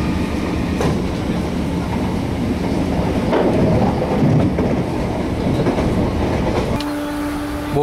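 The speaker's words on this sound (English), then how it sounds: "the train that I've just got off is departing the station" A Merseyrail train bound for Southport pulls out of a station near Seaforth, a loud, steady rumble of wheels and clickety-clack on the rails close by, ending with a brief high tone as it leaves.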